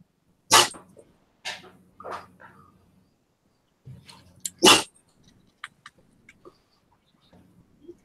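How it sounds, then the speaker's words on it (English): A dog gives several sharp, loud barks close by, spaced irregularly with short pauses, followed by a few fainter yips and small noises. "Sassy dog."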